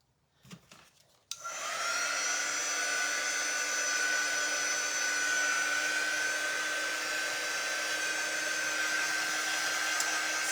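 A hair dryer blows on wet paint on a poppy painting, switching on after a couple of soft handling sounds and then roaring in a steady, loud, close whoosh with a constant motor hum to the end.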